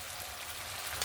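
Spice paste frying in oil in a pan for a Bengali tangra fish curry, a soft, steady sizzle and crackle throughout with a brief brighter pop near the end, faint and close.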